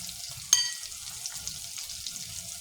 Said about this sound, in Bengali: দিয়ে দিলাম এখানে পেঁয়াজ বাটা।